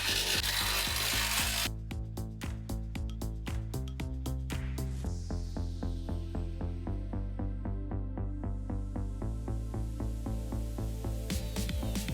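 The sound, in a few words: power drill drilling holes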